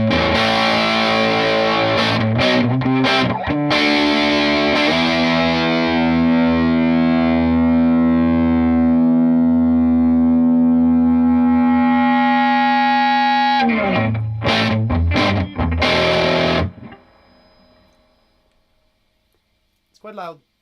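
Distorted electric guitar plays through a Milkman Half Pint amp at full volume: choppy strummed chords, then a long sustained ringing chord, more stabs, and a decay into near silence, loud and close.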